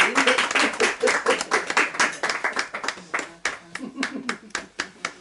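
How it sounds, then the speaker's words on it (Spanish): Applause at a poetry book ceremony, fairly close, brisk clapping from a modest audience, rhythmic and uneven, with voices mixed in. "Un aplauso, por favor."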